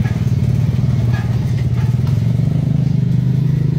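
A motorcycle riding along a rough rural road, engine droning steadily and close with a fast rhythmic ticking from the loose drive chain running through it.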